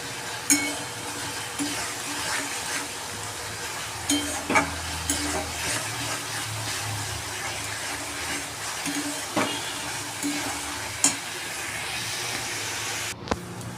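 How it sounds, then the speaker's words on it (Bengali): Spice paste for a crab curry is fried and stirred in a pan, giving a steady sizzle over a low hum, with scattered spatula knocks and scrapes throughout and no talk. "মশলাটা ভালো করে কষিয়ে নেব"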